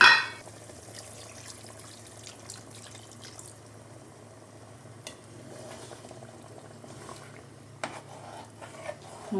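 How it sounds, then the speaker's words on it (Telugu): Water is poured into a pan of fish korma curry, making a soft, steady bubbling and splashing sound that stays faint and continuous, with a louder splash at the start and a few light knocks. "మనకి సరిపడా వాటర్ పోసుకోవాలి."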